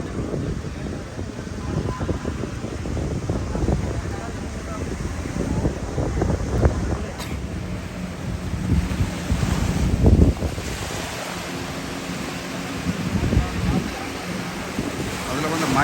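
Racing boats speed across the sea off Mathagal during a boat race, with a continuous broad roar of engines, spray and surf mixed with strong wind buffeting the microphone, steady throughout with brief louder surges.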